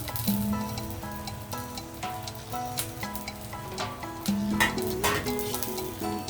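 Cumin, mustard seeds, dried red chilli and curry leaves spluttering in hot oil for tempering, giving a continuous close sizzle with sharp pops, over steady background music.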